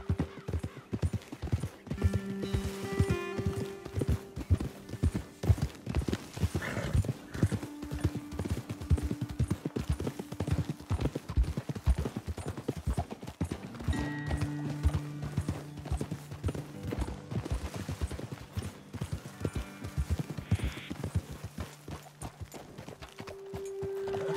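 Hooves clip-clop steadily on hard ground as horses walk in Red Dead Redemption 2, a continuous rhythmic patter with soft tonal music in the background.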